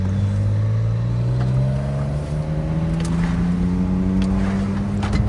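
A 1995 Mitsubishi 3000GT SL Spyder engine, running a little smoky, drones steadily while driving on the road, its pitch rising smoothly as it pulls under load, loud and continuous with no talk.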